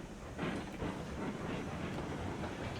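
A freight train rolls downhill in the RailRoads Online video game, a steady rumbling roll with faint wheel clatter, at moderate distance and fairly quiet, with no talk.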